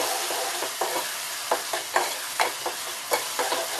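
Onion frying in a pan for Maharashtrian masoor amti is stirred with repeated, fairly regular scraping strokes over a continuous close sizzle.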